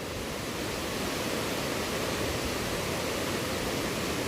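Rapids on a river in the New River Gorge rush in a steady, dense roar, loud and close with no break or voices.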